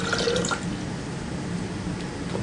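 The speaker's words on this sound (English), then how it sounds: "140 millilitres of water" About 140 millilitres of water pours into a container for a copper sulphate plating solution, a steady close splashing and trickling stream with a few drips early on.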